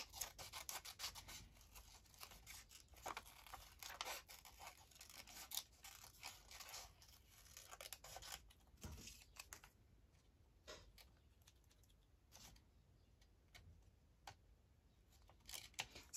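Small scissors snipping paper in quick, fussy cuts for making paper bags, a close, quiet series of crisp irregular snips and rustles with no talking.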